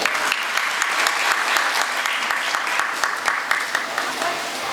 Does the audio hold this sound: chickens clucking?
no